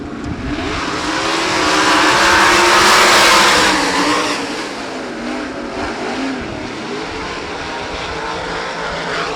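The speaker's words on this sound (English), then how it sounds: "Three wide, they go off turn 2 as Ricky Montgomery gets a bite on the botto" Sprint cars roar past together in a heat race at 34 Raceway, a loud dirt-track engine howl that swells to a peak around three seconds, then settles into a steady, slightly more distant drone.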